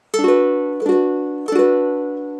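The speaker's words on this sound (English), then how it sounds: "When I add the capo on to the ukulele, it will sound like this." Three bright ukulele strums on open strings with a capo, each ringing briefly before the next, close and clear with no voices.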